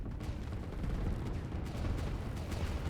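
Continuous rumbling barrage of artillery fire in the strategy game Line War, many overlapping booms blending into a dense, steady roar with no clear gaps.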